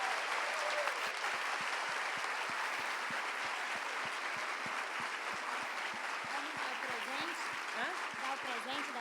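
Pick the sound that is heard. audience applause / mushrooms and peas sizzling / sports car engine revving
audience applause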